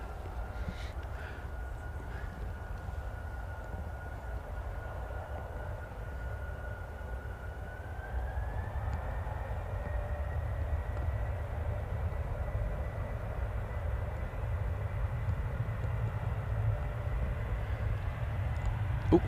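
A 37-year-old Jet2 Boeing 757 arriving at Manchester gives a steady, distant engine roar with a low rumble that holds throughout, its tone rising partway through and the sound gradually growing louder.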